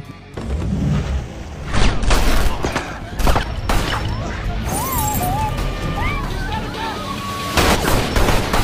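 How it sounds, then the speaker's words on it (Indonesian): Bursts of gunfire and sharp impacts crack out repeatedly in a movie shootout over a busy, chaotic scene, with whistling tones and other action noise in between. "Sebuah baku tembak pun kemudian kembali terjadi."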